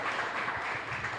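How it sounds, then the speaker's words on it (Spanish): Church congregation applauding at a Mass in a chapel, a steady wash of many hands clapping together at moderate distance, with no voices over it. "Fuerte aplauso entonces"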